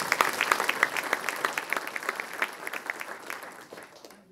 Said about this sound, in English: If you want to give a round of applause.